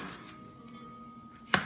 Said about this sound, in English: So I'm chopping this.